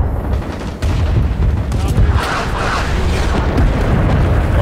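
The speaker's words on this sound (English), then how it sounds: "We got caught in that blast" A grenade blast in the Vietnam War shooter Rising Storm 2: Vietnam rolls out as a loud, sustained rumbling boom amid ongoing battle noise, lasting throughout without a sharp isolated crack.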